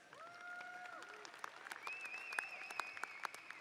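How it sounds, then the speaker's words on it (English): Applause from a university commencement audience, a soft distant patter of many hands clapping beneath sustained tonal sounds, with sharper individual claps standing out as it continues. "You could applaud that."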